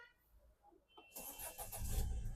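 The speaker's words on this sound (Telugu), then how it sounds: "సింగిల్ సెల్ఫ్లో బండి స్టార్ట్ అవుతుంది" A 2017/18 Ford EcoSport engine starts on a single crank, with a brief starter whir followed by the engine catching and settling into a steady idle, heard close and fairly quiet.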